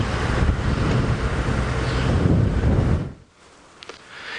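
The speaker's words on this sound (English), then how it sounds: "It is a very windy, blustery day" Strong wind buffets the microphone in a loud, rumbling roar for about three seconds on a blustery afternoon safari drive, then drops away to a quieter hiss.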